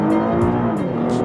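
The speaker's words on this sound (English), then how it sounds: "So everybody wants a loud car." A loud Cadillac engine rumbles close by in Dubai, a steady deep exhaust drone with faint rhythmic ticking on top, brief and alone with no voices.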